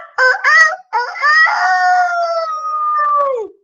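A person's voice imitates a rooster crowing in a loud, close, wavering call: a few short rising bursts followed by a long sustained note that falls away at the end.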